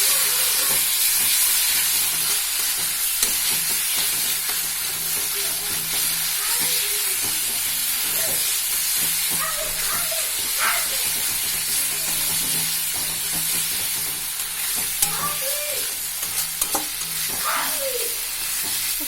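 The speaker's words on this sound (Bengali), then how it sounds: "লঙ্কা গুঁড়ো দিয়ে দিয়েছি, এবারে একটু ভালো করে নেড়ে নিই" Chili powder stirred into food frying in a pan, a continuous close sizzle broken by repeated spatula scrapes and clinks, with no talking.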